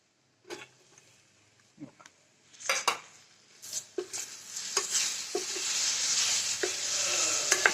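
A spoon scrapes and clinks against a pan while gram flour and chilli mixture is stirred. The first taps are sparse, then a low sizzle builds and runs steadily beneath continued stirring.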